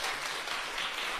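A church congregation claps briefly in praise to God during a sermon, a short, even burst of applause.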